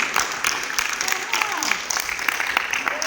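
Audience applause at a national youth mentoring program gathering, a brief burst of scattered clapping from many hands with a voice speaking over it.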